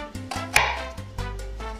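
A knife chops through an onion on a board, the root end left intact, with a series of close, sharp taps in an uneven rhythm, one louder knock among them, and no talking.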